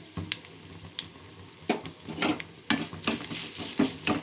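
Asafoetida dropped into hot oil while making gongura dal, a close pan sizzle with scattered stirring scrapes and small crackles that grow busier and louder in the second half.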